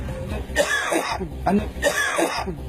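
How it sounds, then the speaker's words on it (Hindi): Several harsh coughs and throat-clearing bursts break out close by during an interview, mixed with bits of voice. "हर बार जब भी आपका कोई इंटरव्यू होता है आप खांसते हो"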